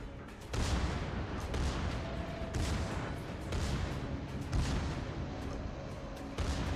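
Naval artillery fire in the World of Warships video game, a continuous barrage of heavy booming gunfire with dense rumbling impacts, loud and sustained throughout with no talk.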